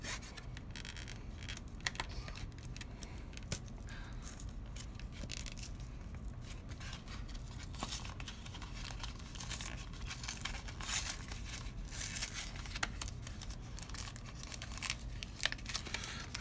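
Plastic blister packs of trading cards being opened up close, giving a steady, continuous crinkling and tearing of plastic that runs throughout with many small sharp crackles and no talking.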